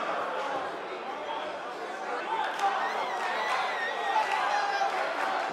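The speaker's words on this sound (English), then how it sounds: "Listen to this crowd, guys." A crowd roars and cheers in a WWE 2K19 wrestling video game, a dense continuous wash of arena noise with shouts and whistles rising slightly toward the end.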